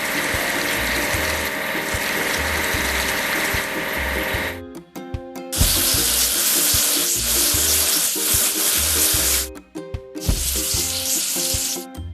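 Truck bodies being spray washed on an assembly line, with hissing water spray in long bursts over a steady clanking, ratcheting factory background, pausing briefly twice.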